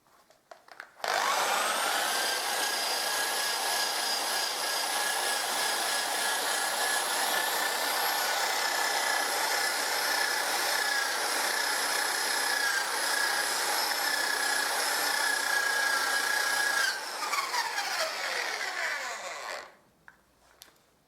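Wire brush spinning in a drill, stripping paint and rust from iron work: one loud, sustained whining grind lasting most of the clip, starting abruptly and winding down near the end.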